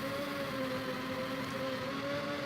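Formula One cars in the Super NES racer F1 ROC Race of Champions give a steady, buzzy synthesized engine whine with sustained tonal pitches and a constant level, no speech.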